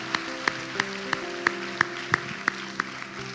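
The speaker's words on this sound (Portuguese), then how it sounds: "Aplaude a Deus por isso, aplaude." A church congregation claps together in a slow, steady rhythm, about three claps per second, with music or organ tones sustained underneath.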